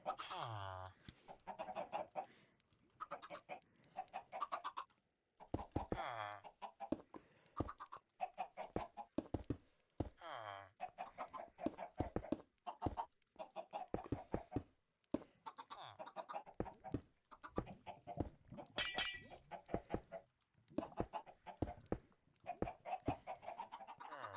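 Chickens in a Minecraft world, their clucks and squawks repeating in short irregular bursts at close range, clustered together throughout.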